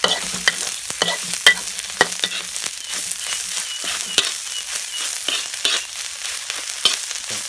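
Spices for a carp larb stir-fried in a pan, with frequent scraping, stirring clatters over a steady close sizzle and no talk.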